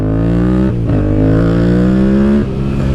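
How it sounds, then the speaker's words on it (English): Yamaha MT-07 motorcycle engine revved hard close up, a loud throaty drone that rises in pitch, dips sharply, then climbs again before dropping back, with no voices over it. "Revving it at stop signs,"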